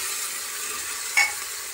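Grated garlic and ginger frying in a pan give a steady bright sizzle, with one brief scrape of a spoon stirring through the middle.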